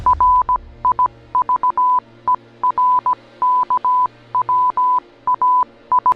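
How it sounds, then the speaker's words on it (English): Rapid bursts of short electronic beeps at one steady pitch, grouped in irregular clusters like coded signals, clear and alone against near silence. "Audio from the final video posted sounds like Morse code."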